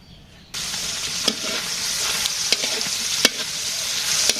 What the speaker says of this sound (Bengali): মাছটা ভেজে নিতেছি, মাছ ভাজি হয়ে গেছে।